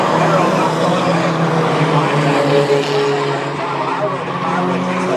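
Racing trucks roaring around a speedway track in a feature race, a loud dense engine drone of the pack with tire noise, under steady excited commentary.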